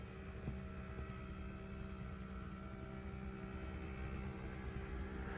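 Electric awning motor on a 2022 Forest River Clipper 17 BHS travel trailer retracting, a steady continuous hum with tonal whine held evenly throughout, no talking.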